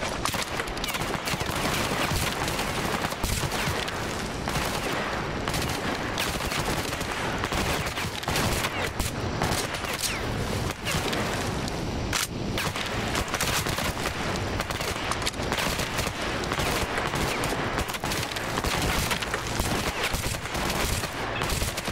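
Sustained automatic gunfire in the video game Stalker Clear Sky, a nonstop loud barrage of overlapping shots and bursts poured into a tree, with faint voices buried underneath.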